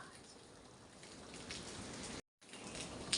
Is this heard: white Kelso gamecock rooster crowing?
no